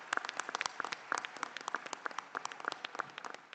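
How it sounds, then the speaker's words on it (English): An audience applauds the teachers at a Beaconhouse school 50th-anniversary event, with steady, dense clapping heard faintly from a distance for several seconds. "So a big round of applause to all the teachers of Beaconhouse."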